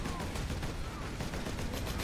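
Rapid automatic gunfire from the Space Marine video game rattles continuously and fairly loud, a steady stream of shots with a voice talking underneath.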